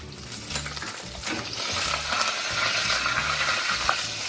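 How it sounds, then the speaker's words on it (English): Curry leaves hit hot oil with urad dal and dried red chilies for rava upma, giving a steady sizzling hiss with a few light clinks and stirring sounds, with no talking. "I'm going to add the curry leaves."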